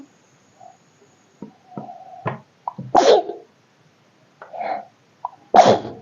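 A single sharp sneeze bursts out, followed by a couple of brief quieter sounds and a short voice, then another sneeze-like burst near the end.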